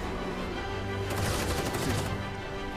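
Gunfire in Final Fantasy 7 Rebirth, a dense, busy stretch of shots that swells in the middle under steady game music and ambience, with no voices.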